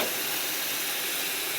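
Onions frying in hot oil for a Bengali dish, a steady loud hiss and sizzle with no break or speech.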